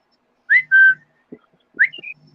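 Several short whistled notes, a rising chirp then a held tone, a pause and another rising whistle, with faint thumps between them.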